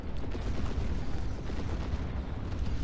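Artillery fire support pounding away in a multiplayer video game match, a dense, continuous rumble of overlapping blasts at steady loudness with no clear gaps.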